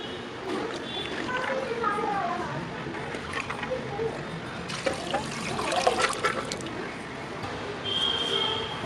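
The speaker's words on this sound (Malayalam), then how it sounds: "നമ്മൾ ആ സോക്ക് ചെയ്ത് വെച്ച വെള്ളം തന്നെയാണ് ഇതിൻ്റെ അകത്തേക്ക് ഇട്ട് കൊടുക്കുന്നത്" Soaking water from chickpeas poured into a cooking pot, a continuous splashing, gurgling pour close by that swells midway, with a voice faintly mixed in.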